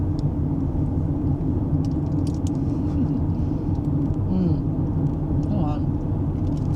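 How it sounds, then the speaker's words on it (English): Car driving on a road through a residential area, a low steady cabin rumble of engine and tires throughout, with people talking inside the vehicle. "we are driving through Cedar Crest area."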